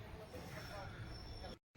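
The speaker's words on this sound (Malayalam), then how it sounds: "അങ്ങനെ ചാലക്കുടി റെയിൽവേ സ്റ്റേഷനിൽ എത്തിയിരിക്കുകയാണ് ട്രെയിൻ." Ernakulam–Kannur Intercity train at Chalakudy railway station, a steady rumble of rail cars with a thin high squeal of wheels, close and continuous before cutting briefly to silence near the end.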